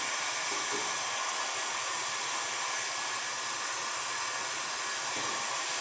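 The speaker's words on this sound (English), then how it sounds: "Right in here, got the heat gun all the way up." A heat gun on full power warms the skin of a salvaged 2013 Honda Accord EX-L body panel, giving a steady, close, loud airy roar that runs unbroken throughout.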